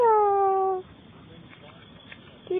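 A single drawn-out cat meow, loud and close, ending abruptly; afterward quiet room noise with a faint brief sound near the end.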